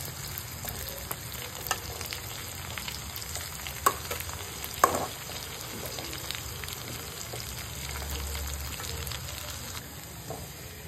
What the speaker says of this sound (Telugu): తర్వాత వీటన్నిటిని బాగా మిక్స్ చేయండి